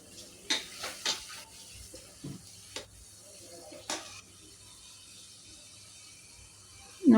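Masala frying in a pan for dal gosht curry, stirred with a spoon: a few clinking, scraping strokes early on, then a quiet stretch with a faint sizzle and a last louder knock at the end.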